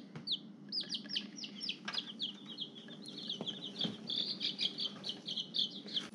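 Baby chicks, cream legbar and light Brahma, peeping in quick high chirps at close range, a steady scatter of calls continuing throughout over a low background hum.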